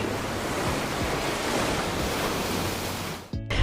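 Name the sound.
sea waves breaking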